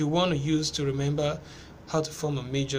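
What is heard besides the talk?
None of the usual background noises is heard.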